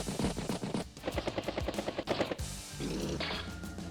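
Artillery fires during a battle in the Advance Wars video game, a quick run of punchy, rhythmic blasts set against game music, followed by a sustained rumbling tail.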